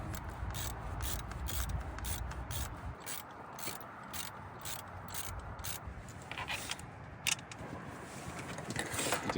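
Rapid ratchet clicking as a 10mm bolt is tightened on the alternator housing of a 2012-2017 Toyota Camry 2.5, with close, steady pawl ticks in quick runs and brief pauses.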